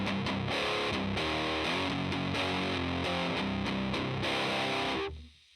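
A heavily distorted electric guitar plays thick, fuzzy chords through a Fender Hot Rod amp, loud and saturated, then cuts off and rings out.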